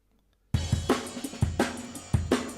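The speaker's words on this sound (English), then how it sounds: "there's a breakbeat that I want to use" A punchy drum breakbeat kicks in after a brief silence, with hard kicks and snares in a looping, syncopated pattern.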